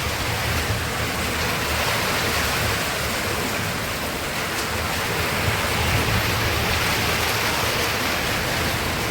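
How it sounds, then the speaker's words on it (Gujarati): Heavy unseasonal summer rain with hail pours down at Savarkundla in Amreli district, a steady, loud, dense hiss that continues unbroken throughout. "ભર ઉનાળે વરસાદ કરા."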